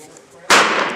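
A 9mm round fires from a 12 gauge shotgun through a chamber adapter rifle insert: after a quiet moment comes a single sharp, loud outdoor bang with a short decaying tail.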